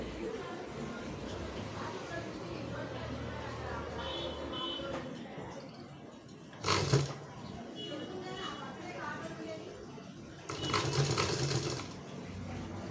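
A home sewing machine stitching folded fabric for a beginner tailoring lesson, running in a continuous mechanical whir with two brief louder bursts, while someone talks over it.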